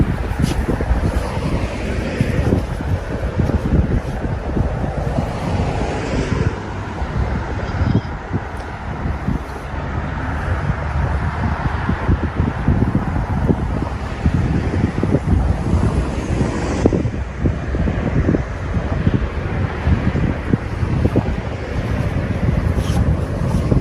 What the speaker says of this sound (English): it's quite windy today, it's going to make casting hard work